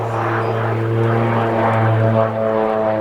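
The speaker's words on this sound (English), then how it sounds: "turboprop light attack aircraft. Powered by a pair of Garrett turboprops." An OV-10 Bronco light attack aircraft, powered by twin Garrett turboprops, drones loudly overhead at an air festival, a steady close propeller hum with no talk.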